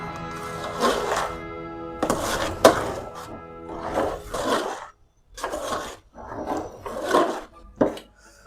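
A ladle scrapes and churns through thick Hyderabadi mutton haleem in a pot, a series of close, uneven rasping strokes with short pauses between them.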